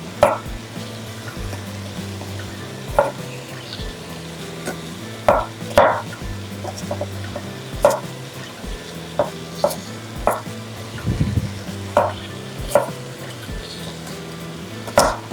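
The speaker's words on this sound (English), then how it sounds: "So what I did was slice all of these potatoes before cubing them instead of doing one potato at a time." Knife chopping through potatoes on a cutting board, a series of sharp irregular thuds and clicks with a low hum beneath and no talk.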